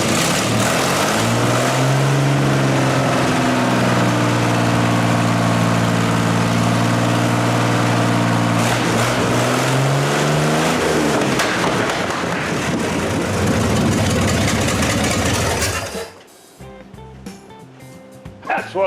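A GMC 702 cubic inch V12 engine runs loud and close with a deep, steady drone, then its pitch sags before it cuts out abruptly near the end.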